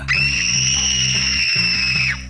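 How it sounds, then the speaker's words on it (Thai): A cartoon girl from a Doraemon parody screams in fear, a long shrill, steady cry held for about two seconds over a low, rhythmic music bed. "เธอจึงได้กรีดร้องออกมาด้วยความหวาดกลัว"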